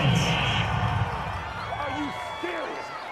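A football stadium crowd at an NFL divisional-round playoff game roars and boos in a broad, distant swell that fades slightly as a voice talks over it.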